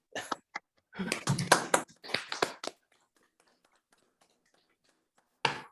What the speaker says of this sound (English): if everyone can unmute, and we'll just give Tim a round of applause